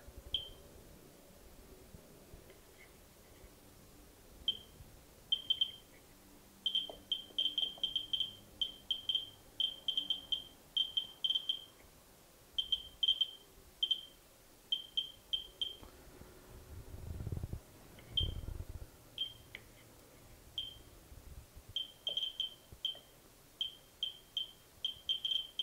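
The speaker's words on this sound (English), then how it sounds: "They are detectable with a helium-3 detector" Helium-3 neutron detector clicking near a neutron source, sharp electronic chirps firing in irregular clusters and runs over faint background rumble, with no talk.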